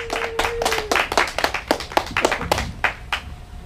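A small audience at a comedy open mic claps for comedian Andrew Chance, giving sparse, distinct handclaps with uneven spacing. A faint steady tone runs under the first second, and there is no talk.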